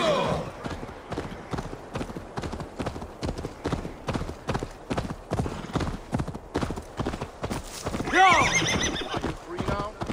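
Steady galloping hoofbeats in a fast rhythm from Assassin's Creed Valhalla, capped by a loud horse whinny near the end, with voices talking over the ride.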